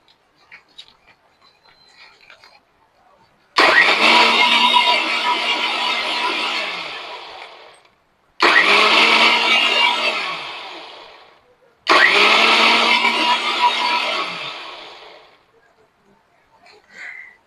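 An electric blender whirs through ripe mango juice with added sugar in three loud bursts of several seconds each, each spinning down at the end, separated by short near-silent pauses.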